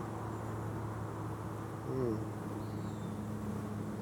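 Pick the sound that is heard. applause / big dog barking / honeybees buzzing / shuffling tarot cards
honeybees buzzing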